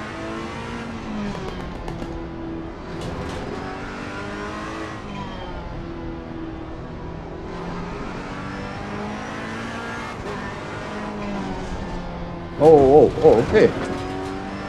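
Ferrari race car engine in Assetto Corsa Competizione, braking hard into a chicane corner, a steady droning engine note with downshift blips and tire squeal near the end, under a voice talking throughout.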